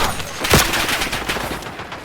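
Rapid gunfire in the battle-royale shooter Warzone, a dense burst of game shots with one louder crack near the start, then a steady stream of lighter shots continuing throughout, fairly close and without talk.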